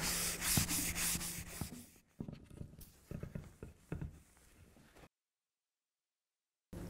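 Hand polishing of a sheet-wax offset mould for a carbon fibre cover part using NW1 self-diminishing compound: steady close rubbing strokes, then a few shorter passes, followed by a stretch of silence.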